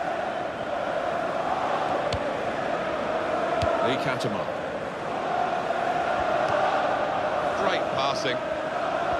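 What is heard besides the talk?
stadium crowd in FIFA 16 video game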